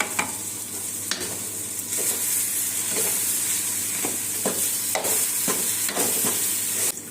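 Spices with salt and coriander powder sizzle and fry in hot oil in a pan for raw papaya gravy, a loud steady hiss broken by regular scraping strokes of a spoon stirring through them.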